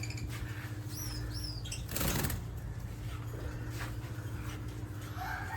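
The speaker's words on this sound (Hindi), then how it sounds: "ये लव बर्ड्स हैं, ये छोटे से तोते होते हैं लेकिन इनको लव बर्ड्स कहा जाता है।" Small lovebird parrots at a small breeding farm give scattered short chirps and tweets over a low background hum. A burst of wing flapping is heard midway, and the birds sound moderately close but quiet.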